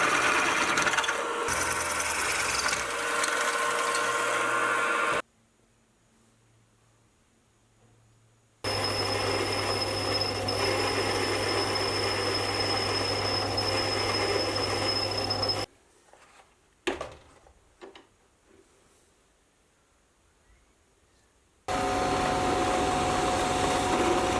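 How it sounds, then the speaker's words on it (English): A milling machine drilling a 10 mm hole in metal for a homemade surface gauge, a loud steady mechanical whir and grind in several long runs separated by near-silent pauses with occasional clunks. "I'll then use the milling machine to drill a 10mm hole"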